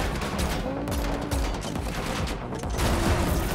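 Gunfire during a car chase in the Matrix Awakens tech demo, built on Unreal Engine 5 and played on PS5: a continuous, loud fusillade of rapid shots that runs the whole time over engine and chase noise.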